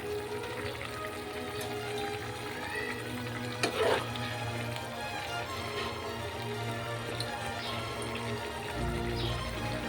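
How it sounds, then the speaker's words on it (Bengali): Fried paneer pieces go into a pan of lightly boiled drumsticks and potatoes, giving a steady close sizzle and bubbling hiss throughout, with a brief louder crackle near the middle. "এরপরে আমি এখন একটু দিচ্ছি ভেজে রাখা পনির।"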